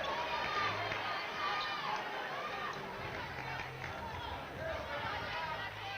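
Home crowd murmuring and chattering in the arena at an NDSU Bison college volleyball match, a dense steady babble of many voices filling the space.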